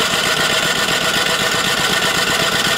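A Champion 3400-watt dual fuel generator runs at a steady, loud, close engine drone with a constant vibrating hum and no pauses or talk.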